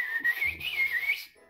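A human voice whistles an imitation of a little bird's sweet song, a bright warbling trill held for just over a second over a faint low hum, then stopping.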